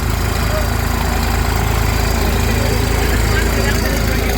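The turbo New Holland tractor with its altered silencer keeps idling nearby in a steady, loud low-pitched chug of fast even beats, while someone talks over the engine.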